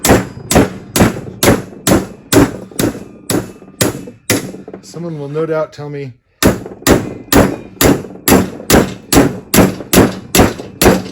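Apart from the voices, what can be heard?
big hammer striking a socket to press out a Volvo Amazon propeller shaft collar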